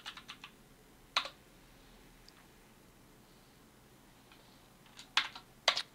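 Someone types an install command on a computer keyboard, producing a few quiet clusters of close key clicks separated by pauses.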